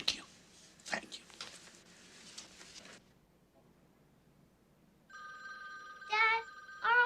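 Voices and movement fill the first few seconds, then a quiet pause before a telephone starts ringing: steady electronic trills, louder toward the end.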